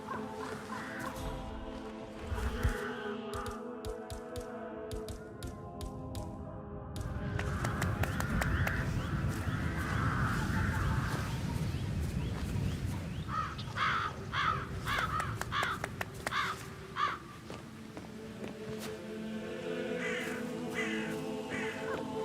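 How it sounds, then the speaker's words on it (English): Crows caw in a tree in the game Hitman 3, repeated harsh calls in irregular clusters, some near and some farther, over a low ambient background. "I need those birds gone."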